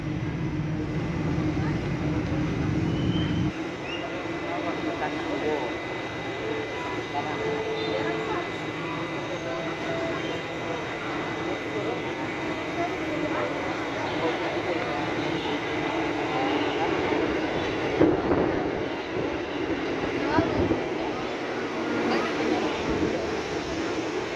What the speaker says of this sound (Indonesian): Lagi-lagi masuk di jalur 1 tujuan Angke